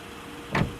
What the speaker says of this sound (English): And the door opens and closes.